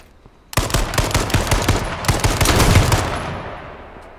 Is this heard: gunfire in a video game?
yes